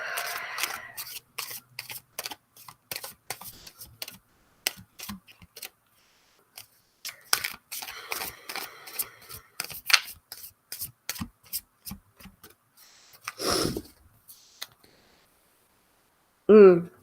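A tarot card deck shuffled by hand makes close, crisp flicks and papery slaps in repeated rhythmic bursts, with short pauses between runs over about sixteen seconds.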